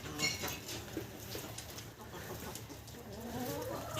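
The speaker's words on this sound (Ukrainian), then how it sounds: "Так, тут у нас що? курочки." Soft clucking from chickens amid a steady patter of rain, the birds close by with no voices.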